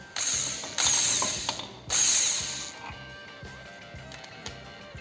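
A ratchet wrench clicks rhythmically while loosening a nut on a Ducati 250 Deluxe motorcycle engine under restoration, with close, crisp pawl ticks in steady bursts and a couple of brief hissing sprays early on.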